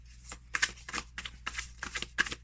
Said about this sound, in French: j'ai pas de problème à les brasser